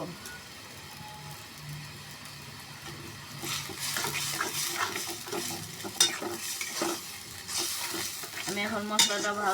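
Spice paste fries and is stirred in hot oil for a fish curry of mrigal with potato, tomato and peas, a steady close sizzle with scraping strokes that grow busier after a few seconds, with a voice talking over it.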